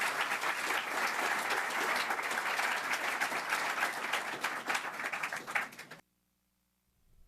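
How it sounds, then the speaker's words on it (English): A large audience applauds speakers at the close of a political talk, steady dense clapping sustained for about six seconds before cutting off abruptly. "would you please give both of our speakers a good round of applause?"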